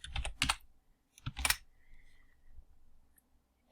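Computer keyboard keys tapped in two short bursts of quick clicks close by, separated by a brief pause and followed by faint room noise.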